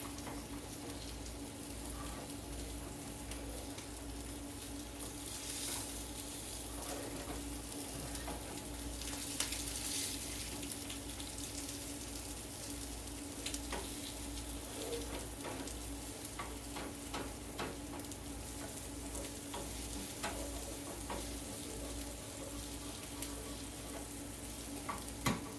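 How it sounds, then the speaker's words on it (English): Eggs frying in a pan as they are turned over, with a soft steady sizzle, a low rhythmic ticking underneath and a few scraping touches of the utensil. "All right, let me get these eggs turned over."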